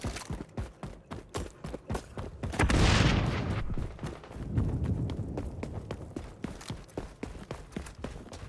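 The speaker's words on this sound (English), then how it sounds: "Throwing grenade." A thrown grenade explodes in the XDefiant shooter on the Times Square escort map, a deep roaring blast that rumbles and fades, surrounded by rapid, evenly spaced gunfire clicks and thuds.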